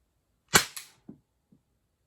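Umarex T4E Glock 17 fired point blank with aluminum ammo, a single sharp close crack followed by a few quick rattling echoes and impacts, alone in an otherwise silent space.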